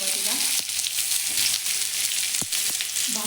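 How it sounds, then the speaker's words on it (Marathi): Onion frying in hot oil in a kadhai while making egg fried rice, a steady close sizzle with brief stirring scrapes, no talk. "त्याच कढईमध्ये मी तेल घालून घेतलेलं आहे। आता आपण त्यामध्ये कांदा घालायचा आहे।"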